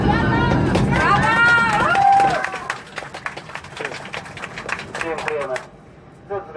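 Airplane passengers clap in the cabin after landing in Warsaw. A dense burst of applause fills the first two seconds, then fades under cabin talk and chatter.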